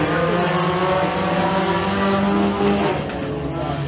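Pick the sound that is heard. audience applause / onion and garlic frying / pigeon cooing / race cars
race cars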